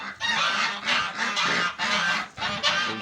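Several geese honk loudly and repeatedly close by, their harsh calls overlapping in a steady, noisy chorus.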